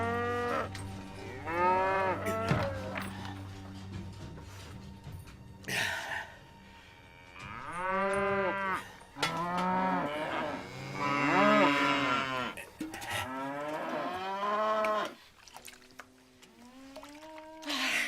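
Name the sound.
cattle mooing as cows are driven out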